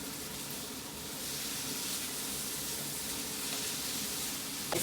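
Steady, close sizzling of ginger, garlic, chilli and onion frying in a pan for a chicken curry, a constant hiss with faint stirring scrapes near the end.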